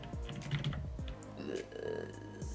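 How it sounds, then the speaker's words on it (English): Computer keyboard keys mashed rapidly while playing the football game Retro Bowl, a flurry of close clicks and clatters in uneven bursts, with a few vocal sounds mixed in. "He broke my keyboard. Keyboard mashed."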